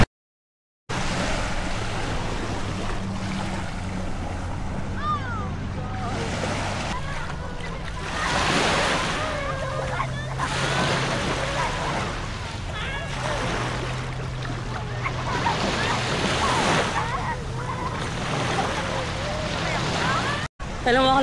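Sea waves wash onto a beach in steady, broad surges and hisses, with people talking over the surf.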